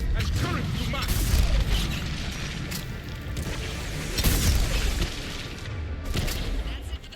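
Missile explosions in the Mass Effect game, a sustained rumbling barrage of deep booms with a few heavier bursts around the middle, loud and dense, with faint talk underneath.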